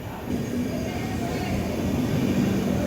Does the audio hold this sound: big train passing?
yes